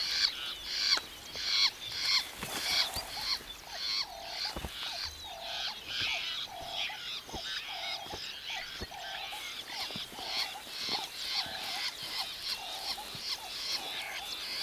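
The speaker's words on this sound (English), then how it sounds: "That's why so many birds are squawking around here." Fiscal shrikes squawk repeatedly in the African wild, harsh rhythmic calls that repeat at a steady pace, fairly close, with several birds overlapping throughout.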